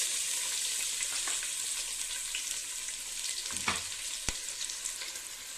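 Onion pieces and green chilies fry in hot oil with cumin, a continuous close hiss and crackle, with a few stirring scrapes and a sharp tap, no talk.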